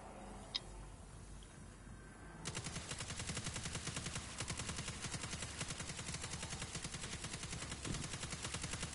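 Rapid automatic gunfire in a video game, a steady fast burst that starts partway in and runs continuously to the end, fairly loud and close.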